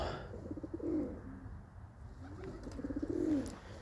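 Pigeons coo softly nearby, two rolling throaty calls separated by a short pause, over faint outdoor background noise.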